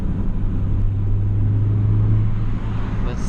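A 2012 Honda Fit fitted with a Beatrush engine mount accelerates, its engine humming in a loud, steady low drone heard from inside the car with no talk.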